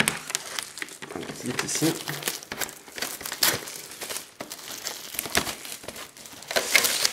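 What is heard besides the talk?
opening a Pokémon card blister pack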